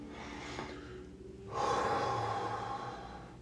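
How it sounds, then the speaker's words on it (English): A deep breath drawn in and let out, close and audible, with a sharp inhale followed by a longer, broader exhale and no talking. "I'm going to take a deep breath"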